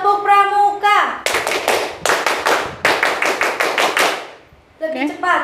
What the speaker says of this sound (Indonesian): Tepuk pramuka sekali lagi.